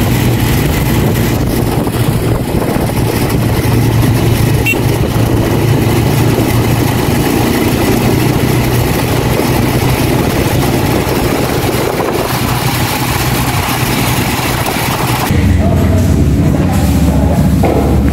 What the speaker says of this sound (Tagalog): Nakasakay na po ng tricycle.